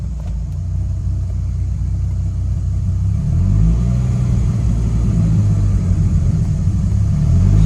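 A Dodge Viper engine runs loud and close, a deep, steady rumble with the clutch released while the car stays still. The note rises slightly partway through but never revs sharply.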